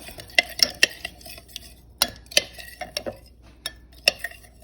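A utensil stirring a pot of rosemary, hibiscus and fenugreek herbs boiled for homemade hair oil, giving sharp irregular clinks and scrapes against the pot, close and fairly loud with quiet gaps between.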